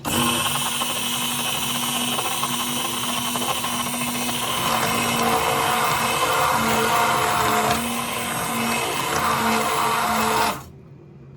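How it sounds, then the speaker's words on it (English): A blender whirs steadily for about ten seconds puréeing cooked tomato soup, a loud continuous motor drone that cuts off abruptly at the end. "Now we're gonna blend it, guys."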